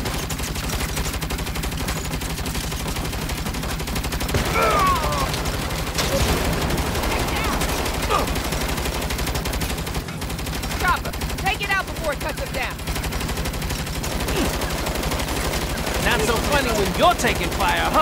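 Sustained gunfire in the Saints Row reboot video game, a dense continuous barrage of shots with bursts of automatic fire running the whole time, loud and close, with voices occasionally mixed in.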